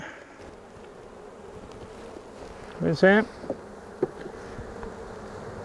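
Honeybees drone in a steady, close buzz around an open hive being split. A person speaks briefly over the hum.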